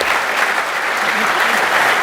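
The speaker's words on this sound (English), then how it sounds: "Guys, let's give him a big round of applause." Loud, dense audience applause at a citrus industry summit, a steady wash of clapping from a large crowd sustained without break throughout.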